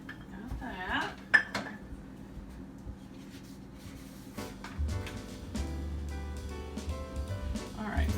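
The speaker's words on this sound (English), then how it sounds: "All right, let's stir it." A spoon scrapes and clinks against a pot while a chicken casserole mixture with mayonnaise is stirred off the heat, giving soft intermittent scraping with a sharp clink early on; a voice speaks briefly over it.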